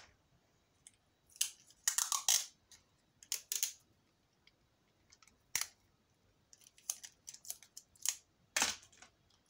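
Sharp bursts of tape being pulled and torn, scattered crackly rips with brief quiet gaps between them, close and fairly soft.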